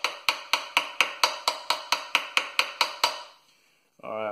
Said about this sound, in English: we're whacking it here on the hotel pan.